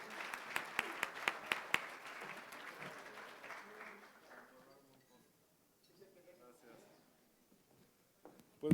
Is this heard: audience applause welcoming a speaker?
yes